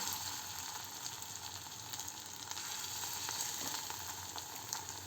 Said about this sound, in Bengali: চলুন দিয়ে দিই চিকেনগুলো অল্প অল্প করে কড়াইয়ে, যেহেতু কড়াই গরম হয়ে গেছে।